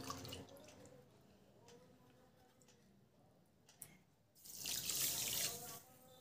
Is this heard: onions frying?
no